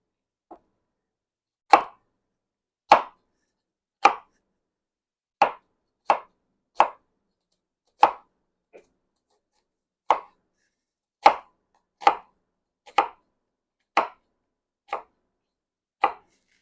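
A knife chops onions on a cutting board at home, with about fifteen separate, crisp chops spaced at an uneven rhythm and silence between them.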